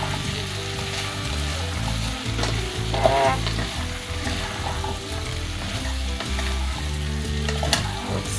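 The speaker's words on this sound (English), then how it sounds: "Cover and let it just simmer for a little bit." Pumpkin soup simmering in a covered pot, a dense steady bubbling and sizzle with faint clinks and stirring noises, fairly close and continuous with no talk.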